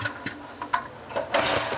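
A truck engine fails to start: a few short, sputtering cranking bursts with gaps between them, then a longer grinding churn at close range.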